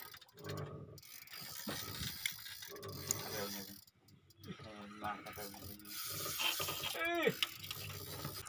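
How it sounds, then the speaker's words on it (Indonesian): Fishing reel drag clicking and whining in quick ratchet bursts while a hooked fish pulls on a bent rod during sea fishing for amberjack and red grouper, heard intermittently between short gaps with voices talking nearby. "sampai berbunyi relnya menjerit"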